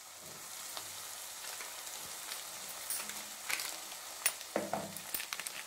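Spices with ginger-garlic paste, coriander powder and garam masala being stirred in a frying egg curry pan: a steady close sizzle with scraping strokes and a few sharper clinks of the spoon near the end.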